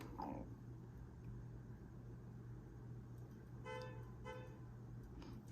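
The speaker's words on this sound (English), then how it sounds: "I don't know why there's lots of honking happening outside." Faint car horns honk outside in a few short bursts, muffled and distant beneath a steady low indoor hum.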